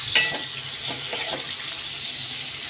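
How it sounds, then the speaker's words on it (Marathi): Vegetables stirred into browned onions in a hot pan for a radish bhaji, giving a steady soft sizzle with a few light scraping stirs near the start, close and continuous without talk. "आणि भाजी आपण मिक्स करून घ्यायची"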